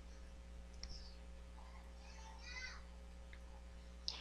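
A couple of sharp, faint computer mouse clicks sound near the start and end against a quiet electrical hum, with soft murmuring voice in between.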